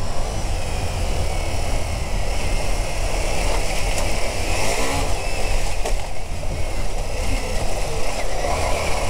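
Ducati Multistrada V4 S motorcycle ridden on a dirt test track, its engine droning steadily and loudly throughout with broadband wind and gravel noise, no voices over it.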